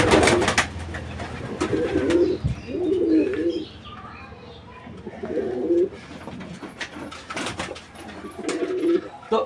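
Pigeons in their coop give repeated low, throaty coos in separate bursts, close and clear, with occasional light knocks and rustles between the calls.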